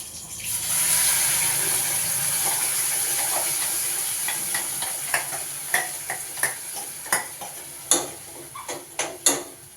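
Mustard seeds frying in hot oil for curry leaf chutney: a loud steady sizzle that eases off, then a series of sharp popping crackles as the seeds burst, close and unvoiced.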